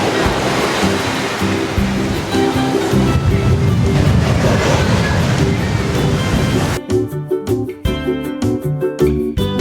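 Surf at Bavaro Beach keeps up a loud, steady rush of breaking waves, then turns into choppier, broken splashing over the last few seconds with no voices.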